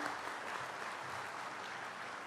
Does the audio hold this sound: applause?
yes